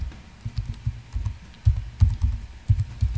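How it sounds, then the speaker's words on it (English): Someone types a name on a computer keyboard, with quick irregular bursts of close, crisp key clicks and brief pauses between words. "let me just type my name"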